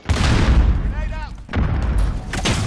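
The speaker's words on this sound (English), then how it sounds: "Grenade out." A grenade goes off in Call of Duty Modern Warfare, heard as deep booming blasts and thuds, the first long and loud, another following after a short gap, with a voice speaking over parts of the action.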